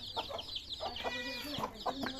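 Hens cluck in short repeated bursts nearby, overlapping softly against a low background hum and faint chirps.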